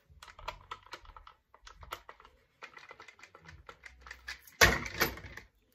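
Quick-release attachment on a competition gun belt drop being unscrewed by hand, giving a string of small dry clicks and ticks close by, finishing in a louder rattling burst near the end.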